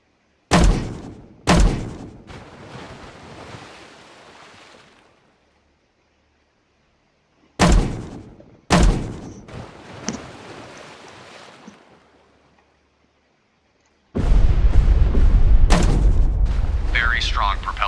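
Depth charges detonate in the naval combat game Destroyer: The U-Boat Hunter, heavy booms arriving in two pairs separated by silence, followed by a long, loud rumbling roar of water and blast.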